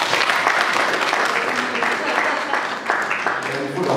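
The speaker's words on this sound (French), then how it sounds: "Et ça peut s'applaudir" An audience breaks into applause, a dense steady wash of clapping that continues throughout, loud and close, with some voices mixed in.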